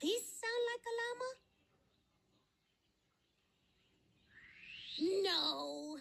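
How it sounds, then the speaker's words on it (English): Cartoon scarlet macaw calls in a children's forest game: a cluster of harsh, squawking cries, a quiet gap, then another loud rising screech, close and alone. "No, that's a scarlet macaw."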